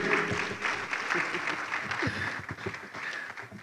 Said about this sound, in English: With a round of applause, let's welcome Engineer Felix Ashrim.